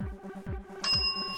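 A bell rung during a quiz game gives a single bright ding that rings on, over a low, throbbing background beat.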